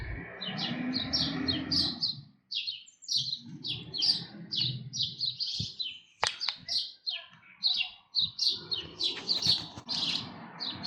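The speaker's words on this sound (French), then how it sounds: "Vous entendez les oiseaux malgré les voitures?" Birds chirp and tweet repeatedly in quick bursts, fairly close, over a low rumble of passing traffic, with a few sharp clicks.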